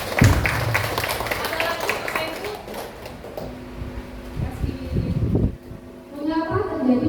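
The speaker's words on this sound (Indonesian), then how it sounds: "Oke, tepuk tangan dong." Audience applause breaks out at an in-house teacher training session at SD Negeri 114 Palembang: a burst of clapping from a roomful of people, fairly close, fading as voices talk over it.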